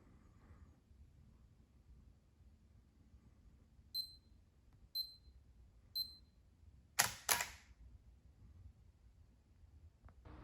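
Three evenly spaced camera shutter clicks from an intervalometer shooting stop motion, then two louder snaps close together, against a quiet room background.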